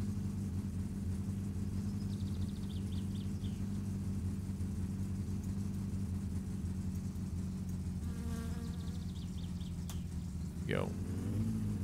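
A car engine idling and warming up in My Summer Car, a steady low rumbling drone with a buzzing, insect-like overtone running throughout, plus a few brief higher chirps.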